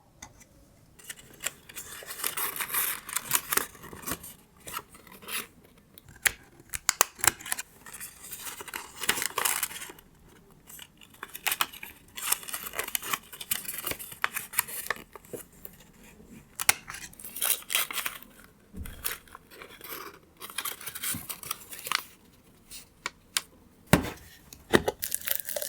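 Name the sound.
scissors cutting slits in the sides of a paper favor box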